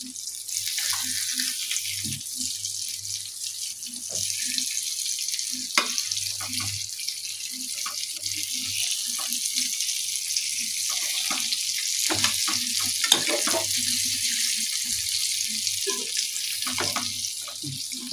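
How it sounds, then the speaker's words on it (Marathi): Surmai (kingfish) pieces fried on both sides in a pan, a steady bright hiss of frying oil running throughout, with low intermittent knocks and clatter from handling nearby. "आता ही मी दोन्ही बाजूकडून फ्राय करून घेतलेली आहे"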